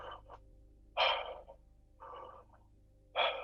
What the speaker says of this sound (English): So we're going to breathe through an open mouth.